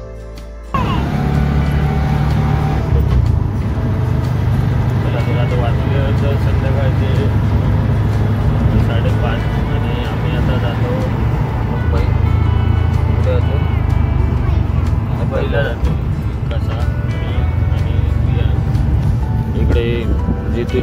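An auto rickshaw carries passengers on a morning road trip, its engine and road noise a steady, loud rumble for the whole ride. People talk over it.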